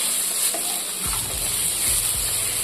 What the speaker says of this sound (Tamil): தக்காளியை நல்லா மசாலா பொருட்கள் கூட சேர்த்து வதக்கிக்குவோம்.